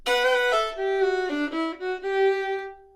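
Electric guitar plays the opening chunk of a bluesy closing lick in Take Me In Your Lifeboat, a run of clear, sustained single notes with bends and slides, played alone with no talk.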